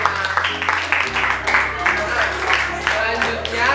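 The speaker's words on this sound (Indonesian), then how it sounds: "beri tepuk tangan pada temannya." Children at a Bali water education day clap for a friend, a burst of scattered applause heard under a steady background tone and music.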